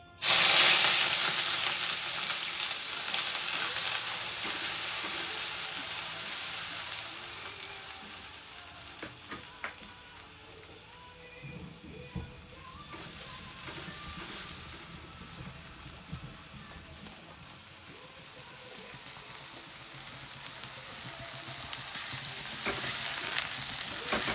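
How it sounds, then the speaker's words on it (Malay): Ingredients stir-fried in a hot, smoking wok with shrimp paste (belacan), for a dish of banana blossom cooked in coconut milk with bird's eye chilies; a loud, steady crackling sizzle starts abruptly and persists, easing slightly midway, with no voices. "kita tumiskan bahan-bahan dia"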